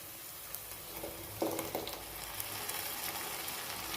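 Ground tomato sautés into a village-style mushroom masala gravy, giving a faint continuous sizzle with a few brief stirring scrapes in the middle.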